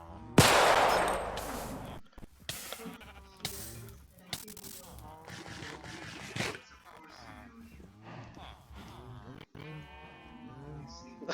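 Musket fired in Minecraft with a custom resource pack, one loud blast near the start and a few sharper shots after, with talking over much of it.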